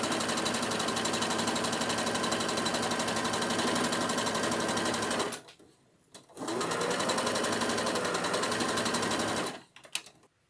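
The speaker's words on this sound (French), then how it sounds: "après je pars en point droit" A sewing machine runs a straight stitch along the sleeve of a disposable gown: a fast, loud, even mechanical chatter in two long runs, each stopping abruptly, with a brief pause between them.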